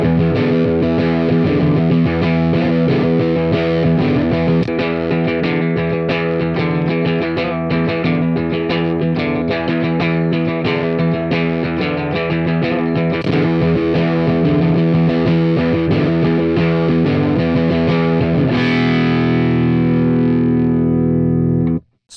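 Overdriven electric guitar played through a WA-C1 chorus and vibrato pedal, loud sustained chords with a shimmering, wavering modulated tone that rings out and fades at the end.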